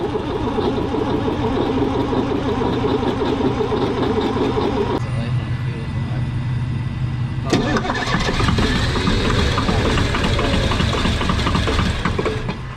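A 1980 International Scout diesel engine runs loud and close, a dense rough clatter that briefly changes note midway and then picks up again, with voices occasionally heard under it.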